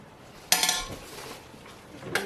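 A spoon scoops and mixes homemade applesauce in a bowl, with a sharp clink of metal on the dish, softer scraping after it, then a second clink near the end, all close up.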